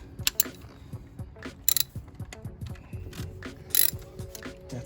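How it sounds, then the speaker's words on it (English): A hand ratchet loosens valve cover bolts on an engine, giving quick runs of close, dry clicking strokes with small metallic knocks between them. "We're just gonna take out the bolts."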